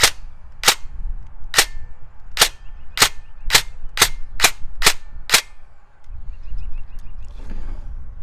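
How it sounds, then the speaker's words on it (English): An airsoft gun powered by an 11.1 V 3000 mAh LiPo battery and firing 0.25 gram BBs, likely with a faulty air seal, lets off nine sharp, loud, evenly spaced shots in a row, followed by quieter handling noise. "we're going to go ahead and shoot it, and I will show you guys the issue."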